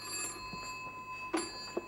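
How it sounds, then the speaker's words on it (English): Telephone ringing faintly in a quiet room: a thin, steady electronic ring tone holds through, with a couple of soft knocks near the end. "I thought it was Rosie ringing to say she was with Liz at last"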